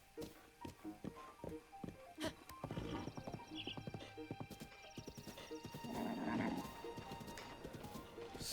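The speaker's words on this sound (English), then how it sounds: "Where is this horse going?" A horse in The Legend of Zelda: Breath of the Wild trots with steady clip-clop hoofbeats, then lets out a neigh partway through. Game sound effects are layered around it.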